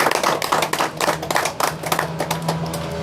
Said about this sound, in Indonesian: Ya, luar biasa. Tepuk tangan dulu.